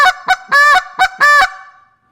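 A hand-blown goose call imitates a goose with short clucks alternating with longer honks, five loud, close, nasal notes in a quick rhythmic series with a brief fading tail.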